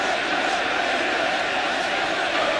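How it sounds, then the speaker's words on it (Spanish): Stadium crowd at River Plate giving an ovation to Ariel Ortega during a 2005 Apertura match against Newell's, a dense, steady roar of massed voices that holds even and loud throughout. "La ovación de la gente de River para el burrito Ariel Ortiga"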